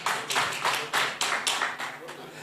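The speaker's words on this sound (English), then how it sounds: "another round of applause" An audience claps at a live soccer draw event, giving a short round of applause in several uneven bursts. It is fairly quiet and sounds thin.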